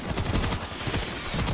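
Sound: machine gun fire in video game World War Z

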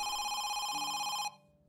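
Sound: telephone ringing

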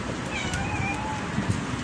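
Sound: cat meowing

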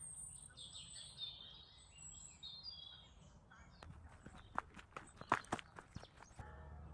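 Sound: birds calling

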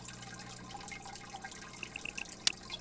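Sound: water being changed in aquarium tank, video game Biotope Aquarium Simulator

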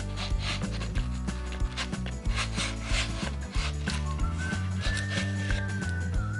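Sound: edge trimmer trimming veneer off plywood edge

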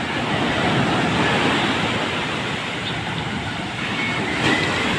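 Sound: ocean waves on the beach after Typhoon Kristine

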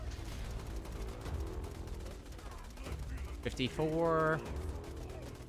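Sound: SMG gunfire in video game Borderlands 2

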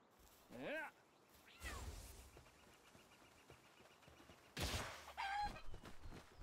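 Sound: chicken clucking in a Pokémon avatar video game

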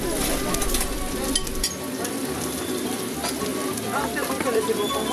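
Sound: juices sizzling in tray of roast whole pig

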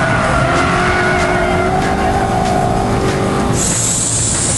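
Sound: Aston Martin V8 Vantage sliding, tires squealing

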